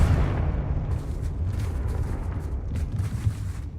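A Confringo blast spell in Hogwarts Legacy erupts in a loud, rumbling explosion that rolls and crackles for several seconds, slowly fading with scattered debris pops.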